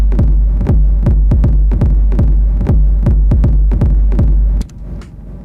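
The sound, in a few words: Elektron Digitakt delay sent into reverb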